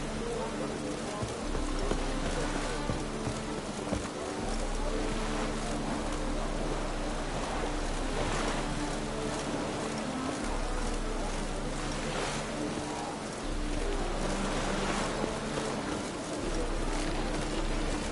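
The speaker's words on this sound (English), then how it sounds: "Rain again." Steady video game rain in The Witcher 3: Wild Hunt hisses continuously throughout, with a low rumble underneath and occasional louder swells.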